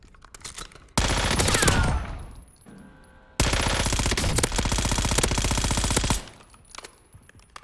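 In the firing range of the Call of Duty Warzone video game, an SMG fires two long, loud, rapid bursts of automatic gunfire separated by a brief gap.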